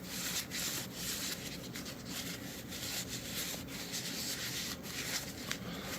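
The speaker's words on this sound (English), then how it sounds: "I'm going to take time to clean up the gunk on the spool, notably a little brass oxide." Brass oxide gunk being rubbed and scrubbed off the ribbon spool of a Corona 3 typewriter, a steady dry scraping that runs continuously at close range with no talk.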